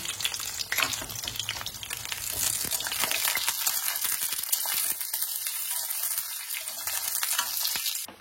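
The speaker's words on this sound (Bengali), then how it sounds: "তেলটা যেই গরম হয়ে যাবে আমি এর মধ্যে এই কেটে রাখা বেগুনগুলোকে দিয়ে লাল লাল করে একটু ভেজে নেব।" Continuous crackling sizzle of cut eggplant frying in hot oil, fairly close and even throughout, with no talking.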